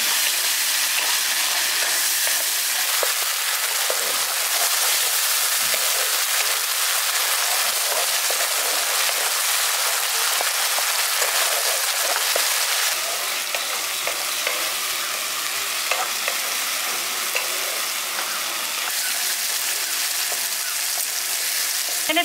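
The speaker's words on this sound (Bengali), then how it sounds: "এবার মশলাটাকে আমি ভালো করে কষিয়ে নিচ্ছি।" Onion, tomato, ginger-garlic paste and spices sauté in a pan for a village-style pointed gourd curry, giving a steady, loud broadband sizzle with occasional scraping stirs throughout, no talking.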